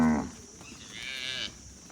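A cow at a cow shelter gives one loud, close, drawn-out moo lasting about one and a half seconds, with a quieter call at the start and no voices.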